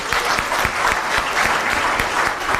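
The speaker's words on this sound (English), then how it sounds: "I think our speaker deserves another round of applause" Audience at a press briefing applauding a speaker, a short burst of dense, even clapping from a mid-sized room, with no talking.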